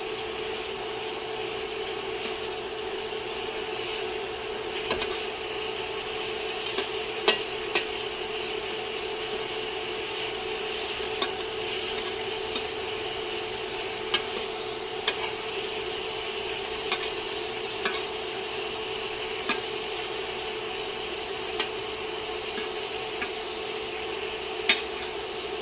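Shrimps frying in a pan, a steady even sizzle throughout with an underlying hum and sparse light clicks of a utensil against the pan, no talking.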